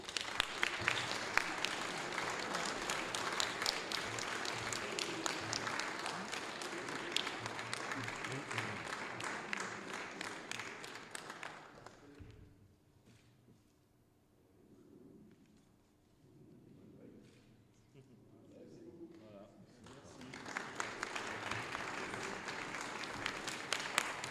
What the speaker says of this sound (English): Ladies and gentlemen, a round of applause for our winners for today.